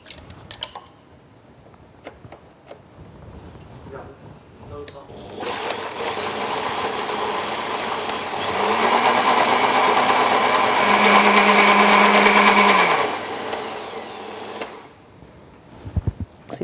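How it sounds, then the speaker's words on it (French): A blender whirs through whole mussels with white wine cooking juice, milk, cream and eggs, starting a few seconds in, running loud and steady with a shift in pitch midway before stopping, with quiet talk and clinks around it. "on va mixer quelques moules entières"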